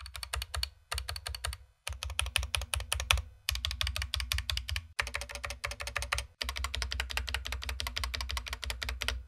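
Typing on a GamaKay MK61 mechanical keyboard, rapid bursts of crisp clacking keystrokes with brief pauses between runs, close and clear with no talking.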